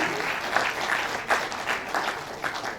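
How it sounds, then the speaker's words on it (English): A conference audience claps for itself in a hall, a dense, even round of many hands applauding at moderate volume with small swells throughout. "Can you clap for yourself again?"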